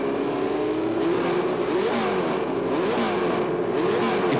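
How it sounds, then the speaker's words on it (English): A Formula One race car screams at full volume, its engine pitch climbing and dropping through a series of sharp gear changes, upshifting and then downshifting in quick succession with no voices present. "Second gear, third gear, fourth, then third, back to second"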